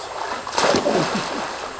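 Horses wade through water, kicking up a short burst of splashing and sloshing that swells and then fades within a couple of seconds, heard fairly close.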